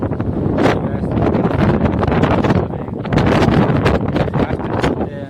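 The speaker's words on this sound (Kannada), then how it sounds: "ಗಾಳಿ ಸಿಕ್ಕಾಪಟ್ಟೆ ಗಾಳಿ ಗಾಯ್ಸ್." Strong wind blows hard outdoors and buffets the microphone, making a loud, roaring rumble that swells in gusts through the whole stretch.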